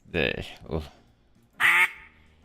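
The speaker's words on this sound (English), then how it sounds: "Hunter Call of the Wild's geese." Geese in the hunting game Hunter Call of the Wild give two quick honking calls and then one louder, harsher honk, close and clear, with no talk over them.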